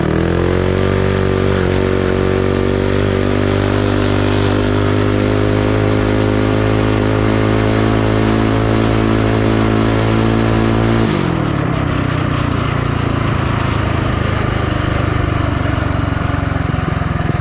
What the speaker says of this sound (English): The idle's high on startup and low once it warms up. Let's go full bore!